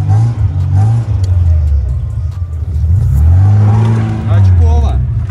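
An old car with its roof cut off to make a convertible, pulling away on its first ride, its engine revving and rising in pitch under loud voices.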